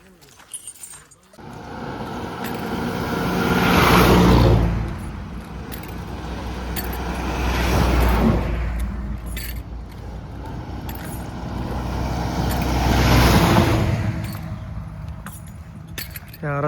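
Cars rush past on a road one after another, each swelling into a loud whoosh and fading, three passes in steady succession.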